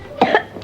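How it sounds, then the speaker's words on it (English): A single close cough: two quick harsh bursts followed by a short catch of breath at the end. "Cough."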